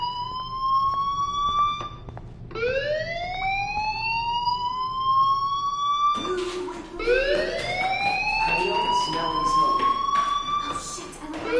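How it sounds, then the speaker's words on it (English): Fire alarm wailing in a video game, repeated rising siren sweeps that climb and hold, growing louder and denser partway through, with a voice talking underneath. "Hey, do you hear that fire alarm?"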